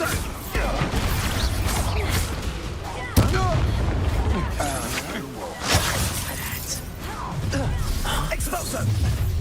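Expulso spell explosions in Hogwarts Legacy, loud blasts and shattering bursts at intervals over constant combat noise and a voice shouting.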